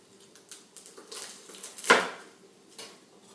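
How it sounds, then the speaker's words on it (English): Knife taps on a cutting board while chopping garlic, a few light scattered knocks with one sharper, louder chop near the middle, quiet and close with no talking. "Next, we're going to chop up some garlic so we can give it a little flavor."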